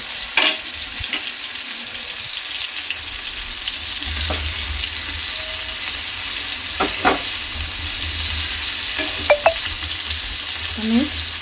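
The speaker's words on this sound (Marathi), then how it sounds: "आपली मच्छी दोन्ही बाजूनी चांगली तळून झालेली आहे" Tuna fish pieces fry in a pan with a continuous close sizzle, along with scattered clinks and scrapes of a utensil against the pan.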